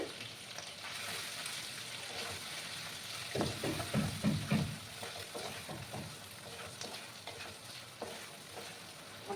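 Garlic, green chilli and ginger paste frying in a pan, a faint continuous sizzle with a burst of louder stirring and scraping in the middle, no voices.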